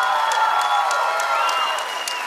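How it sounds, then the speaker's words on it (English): Crowd applause at a fight event at Eastside Cannery, a broad steady wash of clapping and cheering that fills the space without a break, with no talk over it. "How about a big round of applause for these two rising stars?"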